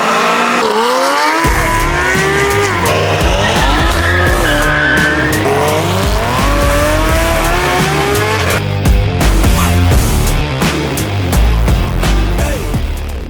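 A Porsche GT3 RS leaving a car show squeals its tires loudly and continuously, the engine revving hard under the screech, with crowd noise in the background.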